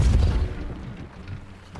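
A Depulso force spell impact in Hogwarts Legacy on PC, a loud low boom at the start that fades into a rumbling tail, with no voices.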